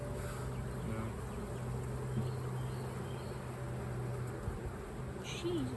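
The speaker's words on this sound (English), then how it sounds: "a bee just hit me, like, ran into me, like, it hit my back pretty hard" Honeybees drone around an open beehive in a steady, faint, continuous buzz, with occasional voices talking quietly nearby.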